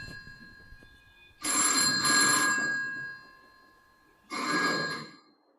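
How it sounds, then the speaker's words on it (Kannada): A telephone rings in two bursts of bright electronic trilling, a longer ring followed after a pause by a shorter one, each standing alone and fairly clear. "ಮೊದ್ಲು 3 ಸಲ ಹಚ್ಚಿದ್ರು ಸೀತಮ್ಮನ್ ಮಗ ಫೋನೇ ಎತ್ತಲಿಲ್ಲ"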